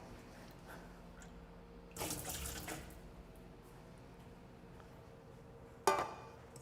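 Tap water pours into a container during healthy cheesecake baking, a brief hissing rush of about a second set against a quiet room, followed later by a short knock.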